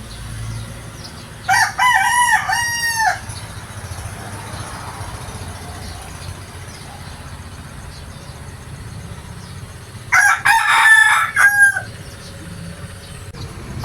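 A breeding rooster crows loudly and close by, two full cock-a-doodle-doo calls spaced several seconds apart, against a quiet outdoor background with faint insects.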